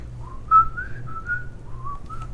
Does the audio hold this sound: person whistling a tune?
yes